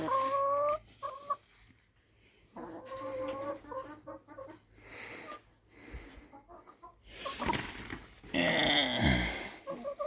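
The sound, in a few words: chickens clucking in the chicken box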